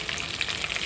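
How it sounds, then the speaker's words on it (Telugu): A tempering for curry leaf pickle spits and crackles in hot oil, giving a close, dense, continuous sizzle with tiny pops throughout. "చెట్టపట్లు ఆడుతున్నాయండి"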